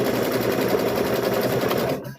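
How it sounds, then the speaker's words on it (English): A sewing machine runs loud and close with a rapid, even needle rhythm as it stitches the last side of a fabric thread catcher, then winds down and stops at the end. "we're going to sew that final side up"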